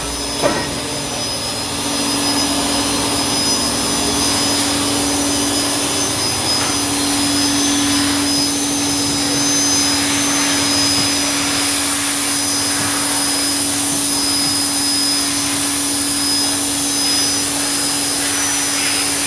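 Continuous loud hiss and roar of abrasive blasting stripping factory and aftermarket car wheels, a steady close rushing noise that holds without a break for the whole stretch.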